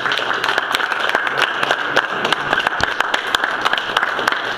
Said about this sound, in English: let's give a round of applause to our presidential candidate here.